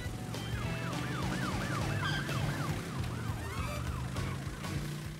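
Wailing police sirens in the video game Crash Bandicoot Warped Remastered rise and fall repeatedly over a droning engine, steady and fairly loud throughout, with no talking.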